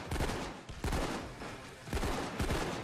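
Grenade explosion and gunfire during a video game jewellery store robbery, several heavy booming blasts and loud bursts of shots spaced across the moment, filling the scene.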